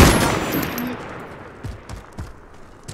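Gunfire in the video game Call of Duty Modern Warfare: a loud burst at the start that fades, followed by several quieter, sharp shots spaced apart.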